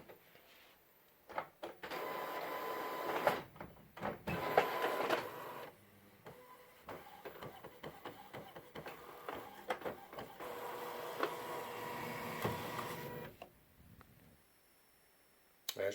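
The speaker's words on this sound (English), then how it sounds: "So let's run a nozzle check real quick and just check it out." An Epson WF-7710 inkjet printer runs a nozzle check during a sublimation setup, its print head shuttling back and forth with a steady sequence of whirs, clicks and mechanical rattles, close and moderately loud, stopping near the end.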